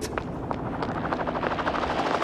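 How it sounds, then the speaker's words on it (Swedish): A helicopter shadows someone from overhead, a steady broadband rotor roar with faint rhythmic chopping throughout, fairly close and continuous with no talk. "Lasse, jag blir skuggad av en helikopter här"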